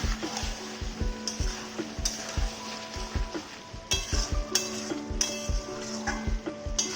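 Meat braises in a pan with a steady sizzle while it is stirred, a spoon scraping and knocking against the pan in an irregular rhythm, close and fairly quiet with no talking.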